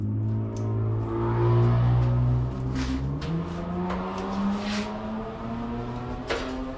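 A loud car passes outside on the street, its engine droning and revving up through the gears as it goes by, with a few sharp clicks and knocks nearby.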